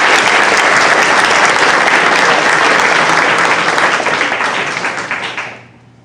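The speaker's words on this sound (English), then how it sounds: "Let's clap for them." An audience applauds women candidates for Petaluma City Council and mayor at a public conversation, a loud, dense, steady clapping that holds for about five seconds before fading quickly away.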